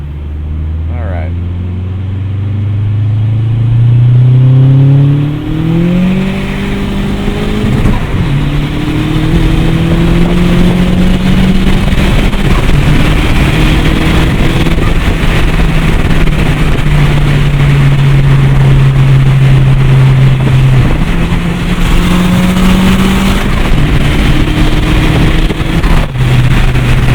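A turbocharged 2008 Chevrolet Cobalt SS accelerates hard, the engine note climbing in pitch through repeated gear changes with brief dips between shifts, loud and close from inside the cabin.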